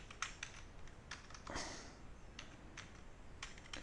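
Rapid clicks of fingers typing code on a computer keyboard, a burst of quick keystrokes at close range with brief pauses between runs.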